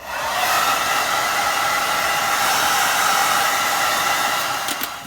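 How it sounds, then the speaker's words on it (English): A hair dryer blows steadily and loudly at close range while drying a repainted Honda steering wheel emblem, a continuous rushing whoosh lasting about five seconds that fades slightly at the end. "just use a hair dryer."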